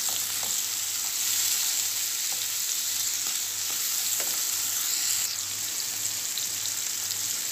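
Tomatoes added to a hot frying pan already seasoned with pepper, giving a steady loud sizzle and crackle with scattered pops and light stirring scrapes, continuous and close with no talking.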